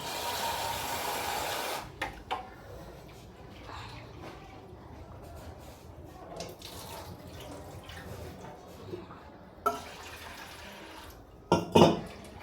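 Water sloshes and drips in a pot as lentils are rinsed, with soft intermittent splashes and occasional clinks of a vessel.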